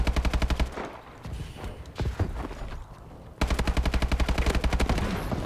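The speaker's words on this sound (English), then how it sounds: "Hey, AK-12 hair trigger." Rapid automatic AK-12 rifle fire from Call of Duty: Advanced Warfare cracks in two loud, evenly spaced bursts, separated by a quieter gap of scattered shots and movement.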